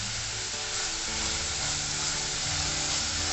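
Onion fries with ginger garlic paste in a pan for spicy Kolhapuri chicken curry, a constant close sizzle accompanied by a steady mechanical hum, with no speech.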